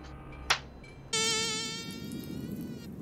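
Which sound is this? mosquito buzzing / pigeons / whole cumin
mosquito buzzing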